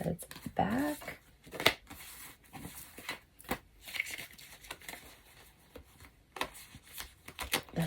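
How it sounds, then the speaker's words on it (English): Two tarot card decks being shuffled together close by in short, irregular bursts of flicking and rustling, with brief pauses between. "I'm going to mix these two decks"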